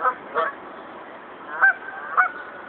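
Geese at Laurel Lake honk in a short series of about four calls, fairly close and clear over a quiet background.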